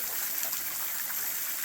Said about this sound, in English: still a pretty nice little waterfall